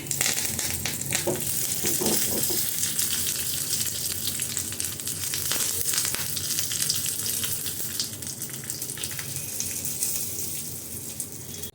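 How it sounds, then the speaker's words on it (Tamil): Mustard seeds, urad dal and curry leaves fry in hot oil as a tempering for roasted-gram chutney, a loud, close, steady sizzle with crackles and a few sharp spits throughout. "கடுகு உளுத்தம்பருப்பும் போடலாம் கருவேப்பிலை போட்டுக்கலாம்"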